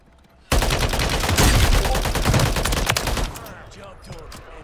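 A sudden, loud, sustained burst of rapid gunfire from a blaster weapon in a video game, hammering continuously for about three seconds before cutting off abruptly to quieter background sound.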